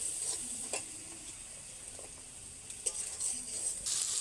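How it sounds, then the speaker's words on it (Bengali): Spiced papad curry stirred in a pan, a faint continuous sizzle with a few soft spoon scrapes and light clicks. "আবারও হালকা করে নেড়ে নিচ্ছি"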